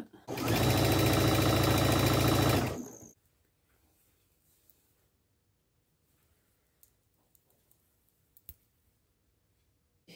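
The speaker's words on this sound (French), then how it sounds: "Donc ça, je vais le mettre endroit contre endroit et je vais coudre." Sewing machine running a French seam on garment shoulders, a loud fast stitching burst of about two seconds that stops abruptly, followed by quiet handling clicks and faint taps.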